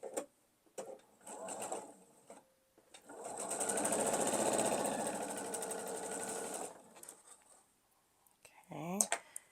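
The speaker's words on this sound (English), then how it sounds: "I think I'm going to do that on the point and then sew right to that valley." A sewing machine stitching a quilt block seam runs in one steady, moderately loud whirring burst of several seconds, with a person talking quietly before and after.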